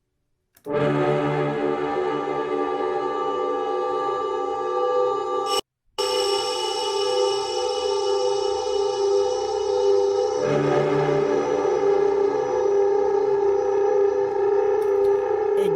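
A loud, harsh distorted drone from combined reverb and distortion effects in Bitwig Studio rings with dense overtones and echoing tails, briefly cutting out once, then continuing as a shifting, tense wall of sound.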